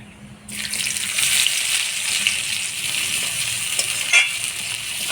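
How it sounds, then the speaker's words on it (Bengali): Chopped onion and nigella seeds hit hot oil with a sudden burst of sizzling that then settles into a steady, close hiss, with a brief stir or scrape near the end. "ফোড়নে দিয়ে দেবো কালো জিরা দিয়ে দেবো পেঁয়াজ কুচি"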